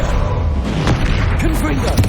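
A Bombarda blast spell goes off in Hogwarts Legacy, a single low booming burst amid busy game sound and music, with a voice speaking over it.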